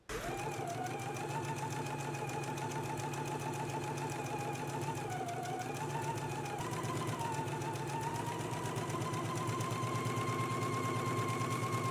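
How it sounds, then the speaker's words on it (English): Sewing machine running steadily while ease stitching along a garment sleeve, a continuous close mechanical whir with a rapid needle rhythm and no pauses, heard alone. "let's go ahead and do all the ease stitching now on our sleeve"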